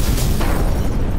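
A short, heavy explosion boom plays as a comedic sound effect in a pediatric clinic sketch, loud and deep with a rumbling body that fills the whole second.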